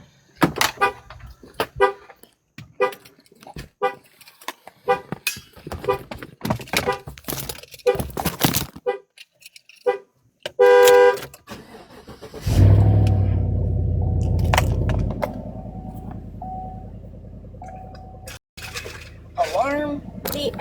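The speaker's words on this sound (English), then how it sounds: "My alarm's gonna go off because I think my other set of keys is in my daughter's truck." A car alarm sounds from a truck, its horn giving short chirping honks in a burst, then a low engine-like rumble takes over while people talk nearby.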